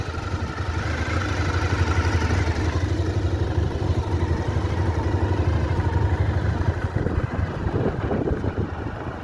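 A Honda VFR400 NC30 motorcycle engine runs steadily throughout, a close, continuous mid-pitched drone with a busy mechanical clatter on top and no one speaking.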